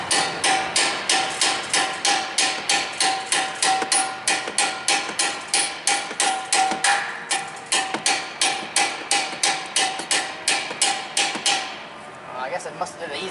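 A hammer taps out the bolts on a Nissan Versa front strut with dozens of sharp, evenly spaced metallic strikes in a steady rhythm, then stops near the end while voices are heard in the background.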